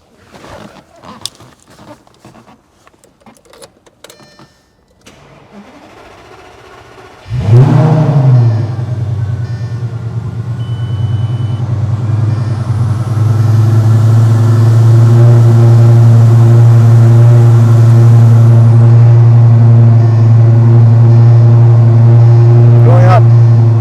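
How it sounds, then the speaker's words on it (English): After some clicks and rustling, a 2007 Lamborghini Gallardo engine cranks and catches with a loud roar, then settles into a deep rumbling idle that gradually rises in revs. "We'll start the car at the same time."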